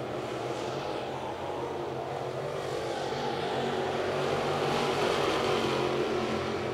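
Late model race cars on the front straightaway of a short oval track, their engines making a steady, moderately distant roar that swells slightly as they pass, with no talking.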